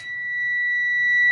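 A Proton Iriz 1.3 car gives off a steady, continuous high-pitched warning beep. The tone holds without a break and gets slightly louder over about a second, with faint background noise and no talking.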